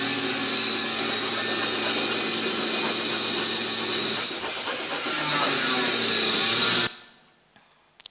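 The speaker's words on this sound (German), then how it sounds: "Das ist eine Säge, wie man hören kann." Steady, loud rasping of a saw running continuously for several seconds with a brief dip midway, then cutting off abruptly into near silence.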